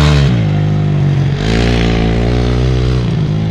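A motorcycle engine revving nearby, a loud throbbing drone that rises and falls in pitch over a few seconds.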